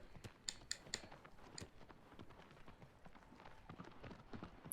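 A horse gallops in Shadow of the Colossus, its hoofbeats a faint, steady patter that runs throughout under a low, busy game backdrop.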